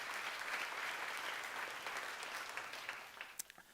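A church congregation at a seminar claps together in sustained, dense applause that holds steady, then thins into a few scattered claps at the end, with no talking over it.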